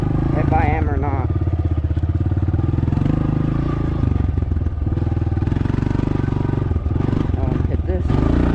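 Dirt bike engine running loud and close while riding, its steady mid-pitched drone rising in brief revs and falling back as the rider moves around a backyard track, with speech over it at times.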